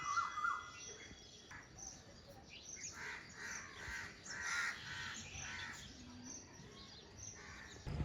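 Sparrows call and chirp repeatedly in the distance, soft and overlapping, over a quiet outdoor background in the morning.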